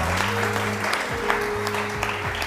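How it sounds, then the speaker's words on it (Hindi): A television morning show studio audience applauds steadily, a dense wash of clapping that stays loud throughout, with low tonal hum and music underneath. "तालियां तो बजाइए"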